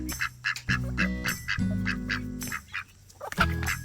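Khaki Campbell ducks quack in short repeated bursts, close and fairly loud, some calls overlapping, in a backyard poultry setup alongside buff Brahma chickens.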